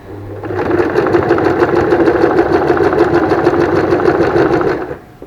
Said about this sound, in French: je vais pouvoir terminer de coudre le pourtour de mon ouvrage